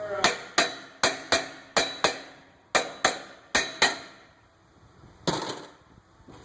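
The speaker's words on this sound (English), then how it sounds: "we'll take a hammer and maybe tap it a few times on the side here" Hammer tapping the side of a stuck rear brake rotor on a 2012 Dodge Grand Caravan: a series of sharp, close metallic knocks in an uneven rhythm, about a dozen strikes with short pauses between them.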